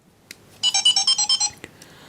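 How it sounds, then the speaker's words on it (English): A Digimon D-3 Digivice toy emits a quick startup burst of about eight rapid high-pitched beeps, preceded and followed by faint clicks. "turning it on rewards you with the signature beeping we all know and love"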